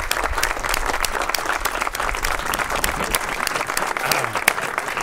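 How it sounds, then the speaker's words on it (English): A crowd at an exhibition hall dedication ceremony gives a sustained round of applause, many hands clapping in a thick, even patter throughout, with faint voices mixed in. "Eddie, another round of applause."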